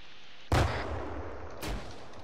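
A grenade blast in the Arma 3 military video game hits with a sudden loud boom and rumbling decay, followed about a second later by a second softer explosion.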